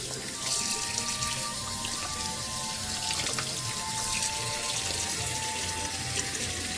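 Tap water runs steadily into a sink as bulk doll clothes for Barbie, Bratz and Disney dolls are rinsed under it, a continuous close hiss and splash with no talk.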